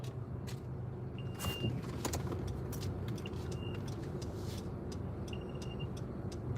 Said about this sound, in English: Yeah, little bit of traffic here.